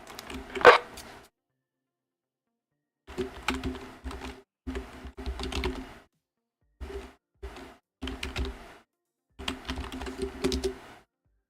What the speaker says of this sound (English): Let me break and finish typing here